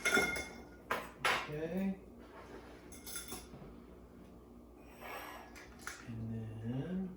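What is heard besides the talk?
stirring a cocktail in a glass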